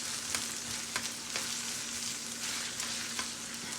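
Chopped onion sizzles in a hot pan for a cheap Vienna sausage scramble, a steady bright frying hiss broken by occasional sharp pops and crackles, close and fairly loud with no talking.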